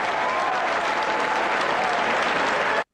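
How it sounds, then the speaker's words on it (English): A crowd at a 1995 ECW wrestling match applauds and cheers loudly and steadily, a dense wash of clapping that cuts off abruptly. "The crowd way into it too."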